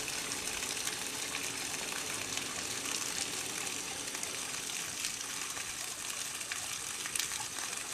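Water from a hydroponics grow bed drains through a bell siphon pipe, a steady, loud rushing gush that holds close and continuous throughout, with no talking.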